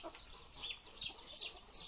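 Purebred poultry including Plymouth and New Hampshire breeds cluck and chatter in a farmyard run, a few close, soft, irregular calls over low background noise.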